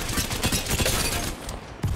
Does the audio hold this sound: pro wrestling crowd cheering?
no